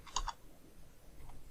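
Two quick bursts of clicky key presses on a computer keyboard, typing a short command on a Windows PC, close and fairly quiet, followed by near silence with faint room noise.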